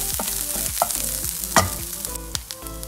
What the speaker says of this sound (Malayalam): ഒരു തണ്ട് കറിവേപ്പില ഇട്ട് കൊടുക്കുക.